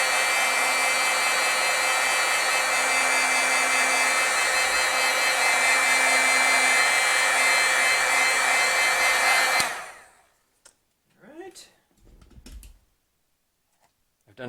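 A heat tool blows loudly and steadily while heat setting pigment ink on a stamped piece, a constant whooshing hum that cuts off abruptly, followed by faint handling noises.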